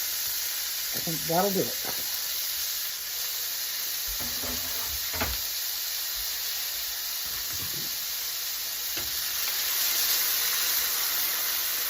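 Chopped onions sizzle steadily in hot oil in a pan, a continuous close frying hiss that runs the whole time beneath brief speech.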